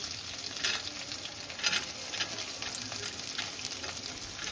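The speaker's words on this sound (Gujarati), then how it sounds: "પહેલાં એકાદ મિનિટ સુધી ગાજરને તેલમાં સંકળાવા દો" Carrots and green chillies sizzle in hot oil in a pan for upma, a continuous close crackle with small pops and stirring scrapes and no talk.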